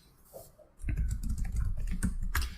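Fingers type on a computer keyboard nearby, a rapid, uneven run of close key clicks and taps that starts after a brief quiet moment and carries on steadily, with no talk.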